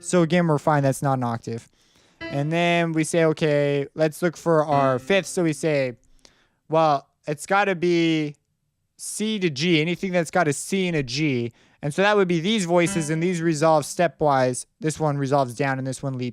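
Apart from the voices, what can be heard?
None of the usual background noises is heard.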